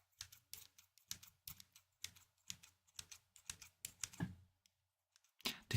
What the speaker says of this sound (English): I think these are like paper scissors. They're like pink